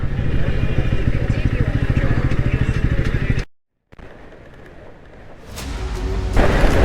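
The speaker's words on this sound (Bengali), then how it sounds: "সুন্দরভাবে আমরা বাইক চালিয়ে যাচ্ছি" A Bajaj Pulsar NS200 motorcycle engine drones with a loud, pulsing note as it rides along a rural road in Purulia, then drops out abruptly and returns as a quieter rush of wind and road noise.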